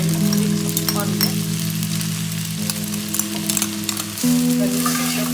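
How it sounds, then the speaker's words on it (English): Noodles stir-fried with onion, green chilli and sauce for restaurant-style chicken chow mein sizzle loudly and steadily in a hot pan, with a low tonal hum underneath and occasional scraping stirs. "So after 1 to 2 minutes fry everything, add the noodles."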